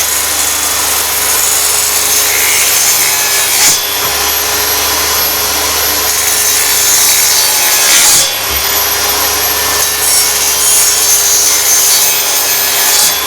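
A saw cuts across the grain of a wooden strip for a model railway layout, a loud, steady rasping stroke that runs continuously with brief shifts in pitch, close to the listener and without talk.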